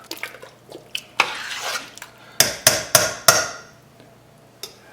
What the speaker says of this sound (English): Go ahead and stir that.